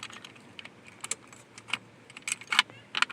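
A key being removed from the ignition lock of a 77-90 Chevy Caprice jingles close by, with metallic clicks and jangles of the key ring in quick bursts that build toward the end.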